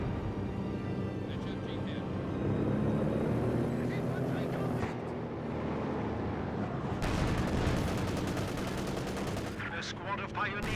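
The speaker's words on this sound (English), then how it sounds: "Conscripts firing away." Infantry rifle gunfire from conscripts in the Company of Heroes 2 strategy game, a dense mix of shots and battle rumble with sharper bursts near the end, under a steady game soundscape.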